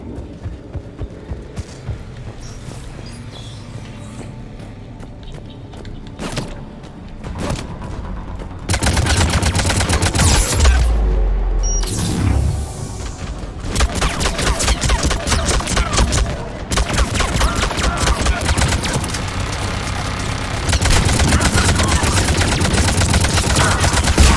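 Dense, loud gunfire from Mass Effect Legendary Edition combat rattles in rapid bursts and volleys, sparse at first and then nearly continuous, with heavy impacts layered over a thick battle background.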